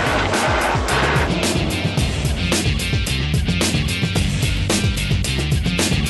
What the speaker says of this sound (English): The highlight of my day is driving the skid steer.